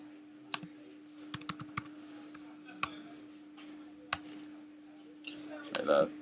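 Typing on a computer keyboard while entering text in a photo-editing tool, scattered light key clicks with irregular rhythm over a steady low hum, faint and close, ending with a brief rustle.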